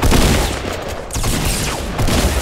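Dense gunfire rattles through a Fortnite match, loud, rapid overlapping shots and bursts that run almost continuously, with one brief dip in the middle.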